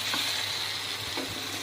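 Chettinad chicken curry being stirred as it dries down in a pan, a steady soft sizzle with a couple of brief scraping stirs, close and alone without talk.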